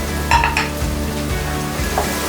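Chopped green chilies hit hot oil in a pan while a chicken roast is being cooked, producing a soft steady sizzle with a few metallic clinks of a utensil against the pan near the start and end.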